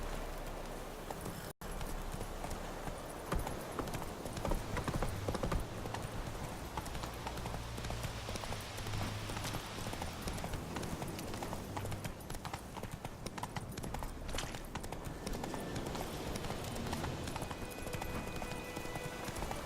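Roach the horse galloping in The Witcher video game, hooves pounding in a steady rapid clip-clop rhythm, loud and continuous throughout, with no voices over the hoofbeats.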